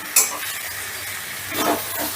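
Diced potato, pointed gourd and Gobindobhog rice are stir-fried in a pan, giving a soft, steady sizzle and hiss with faint stirring scrapes.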